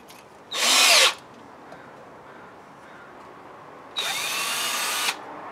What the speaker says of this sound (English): Let's drill these potatoes quickly.